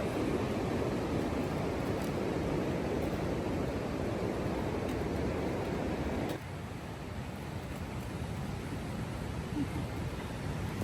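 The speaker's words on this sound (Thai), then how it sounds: "ทางขวาเราก็จะเป็นน้ำตกไหลลงมาเรื่อยๆ" A waterfall in Taat Ton National Park, Chaiyaphum, Thailand, pours steadily beside a forest walking trail, giving a dense, constant rushing roar that softens slightly partway through, with no voices.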